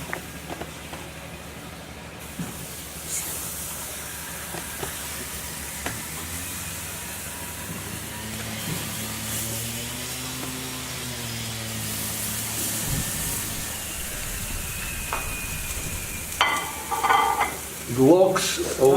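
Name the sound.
sardines with salt sizzling on the grill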